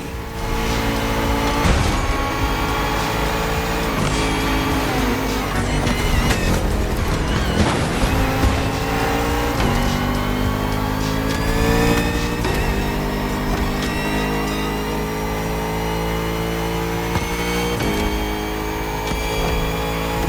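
Bugatti Vision GT engine in The Crew Motorfest, a steady loud drone with sweeping rising pitch as it climbs through gears, several upshifts marked by brief dips, continuous throughout with no talk.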